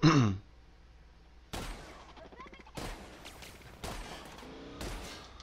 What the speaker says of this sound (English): shotgun not effective against robots